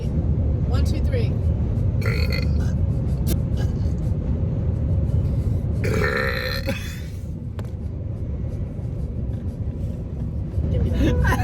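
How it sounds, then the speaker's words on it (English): Several people belch loudly, one after another in a burp contest, producing long guttural rumbling burps over a steady low vehicle-like hum, with brief voice-like bursts mixed in near the start and middle. "Burp competition on 3."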